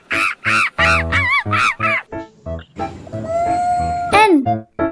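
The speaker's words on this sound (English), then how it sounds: "Monkey sounds." Monkey calls, a rapid series of loud, harsh, rhythmic hoots and shrieks close up, then a warbling cry and a sharp falling screech.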